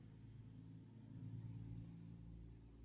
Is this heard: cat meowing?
no